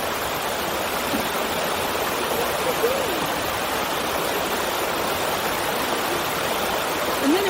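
At a campsite, water rushes and splashes in a constant loud broadband wash throughout, with a faint voice murmuring underneath.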